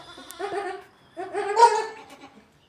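A goat kid bleating twice, close and fairly soft, with two wavering cries separated by a short pause.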